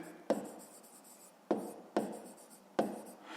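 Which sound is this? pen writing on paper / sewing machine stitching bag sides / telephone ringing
pen writing on paper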